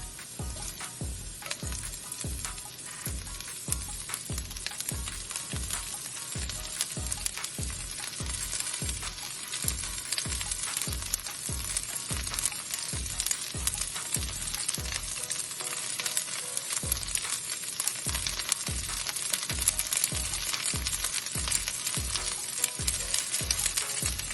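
Broccoli and other vegetables sizzle in hot oil for Hakka noodles, a steady loud frying hiss overlaid with a regular rhythmic clatter of stirring or tossing throughout.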